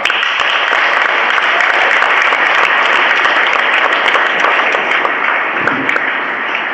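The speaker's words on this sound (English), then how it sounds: "I'd like to just propose a round of applause." Sustained, loud audience applause at a community open house, dense and even clapping from a sizable crowd that carries without a break for nearly seven seconds, with no talk over it.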